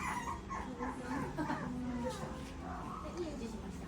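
A puppy in a cage at a pet shop in Tokyo gives soft whimpers and small yips, faint and scattered beneath continuous nearby conversation and shop bustle.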